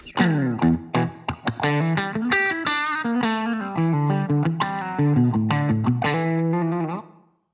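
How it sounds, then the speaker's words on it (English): An electric guitar played through the touch wah effect of a Fender Mustang LT25 amplifier: a loud, distorted run of picked notes and chords with a vowel-like filtered quack, played alone for about seven seconds. "Keep going. Touch wah."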